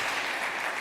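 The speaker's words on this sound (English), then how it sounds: "Let's give Will one more warm round of applause." A brief burst of dense applause from a crowd, steady and loud throughout.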